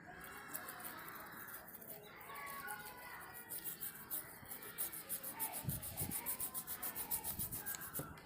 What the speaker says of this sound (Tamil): இப்போ இதை எடுத்துக்கிட்டு ப்ரெஷ்ஷில் அப்படியே லைட்டாக தீர்த்துனாக்க இந்த டஸ்ட்டெல்லாம் ஓடிடும்